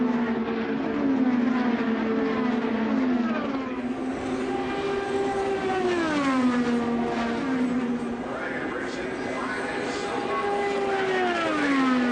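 IndyCar race cars at the Indianapolis 500 scream past in a continuous loud high-pitched engine drone, with pitch rising and falling as cars pass and shift, several overlapping engines at once.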